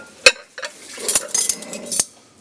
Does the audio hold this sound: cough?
no